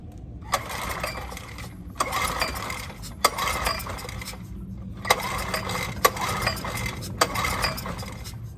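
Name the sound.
pull-starting a Honda EX1000 generator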